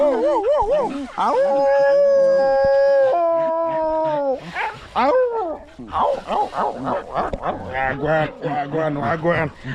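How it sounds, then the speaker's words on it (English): Several dogs howling in long, sustained wavering tones, followed by choppier yips and barks, loud and close, with some talking mixed in. "I have my dogs here"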